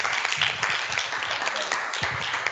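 A conference audience gives a speaker a round of applause as he leaves the stage, steady dense clapping from a large crowd filling the room.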